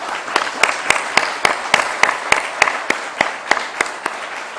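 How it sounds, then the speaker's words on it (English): An audience claps steadily, sharp overlapping hand claps forming a moderate, even round of applause without voices. "a big round of applause as well"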